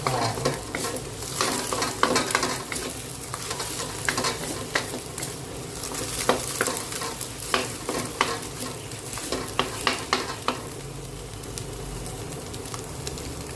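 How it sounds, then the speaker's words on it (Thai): Garlic being stir-fried in a pan for a cucumber and egg dish, a close, loud sizzle broken by repeated sharp scrapes and clatters of the spatula against the pan, with no talk. "เราก็ใส่กระเทียม กระเทียมลงไปผัดพร้อมกัน"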